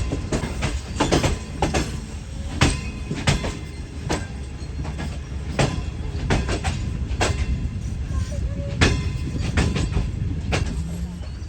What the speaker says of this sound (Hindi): साइया वाले रेलवे स्टेशन पर हमारी ट्रेन लूप ट्रेन पर आ चुकी है